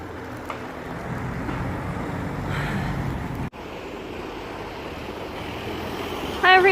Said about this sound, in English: I don't actually know if you can hear me because of all the traffic.